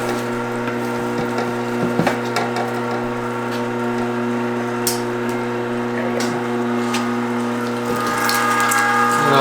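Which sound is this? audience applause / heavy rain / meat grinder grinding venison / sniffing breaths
meat grinder grinding venison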